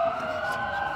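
An ambulance siren wails continuously at moderate distance at a street protest in Poland, holding high and even for the whole second.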